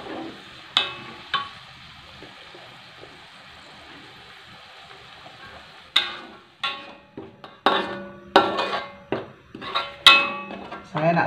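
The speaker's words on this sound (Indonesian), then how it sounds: "Saya nak tumis sampai airnya agak mengering ya sahabatku." Banana blossom is sautéed with spices and coconut milk, with a soft sizzle under repeated sharp clinks and scrapes of a utensil against the pan, arriving in quick irregular bursts toward the end.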